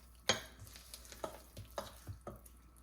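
Bottle gourd (dudhi) dhokla batter being stirred in a bowl, with several soft, wet scraping strokes at an uneven rhythm, close and fairly quiet.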